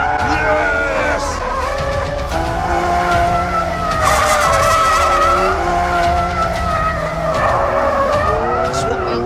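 A Lamborghini skids hard with a loud, sustained tire squeal over a roaring, revving engine, the pitch rising and falling throughout, while someone talks over it.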